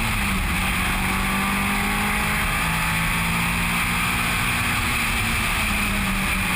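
Onboard a Mitsubishi Evo Lancer race car at Eastern Creek, the engine drones loudly and continuously with a steady tonal hum, close and unbroken, with no voices over it.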